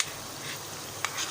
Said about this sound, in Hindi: प्याज फ्राई करें।